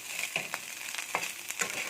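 Small kachki fish frying in oil, a steady close sizzle broken by several short crackles and spatters.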